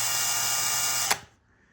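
A power drill fitted with a bent bit whirs steadily while drilling holes in a wooden jig, then winds down abruptly with a short clunk and falls quiet.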